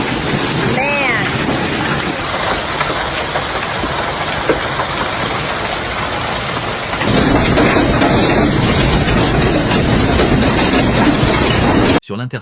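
Heavy hailstorm with pounding rain and rumbling thunder in Amarillo, Texas, a dense, steady roar that swells louder partway through, with faint voices and a low engine hum mixed in.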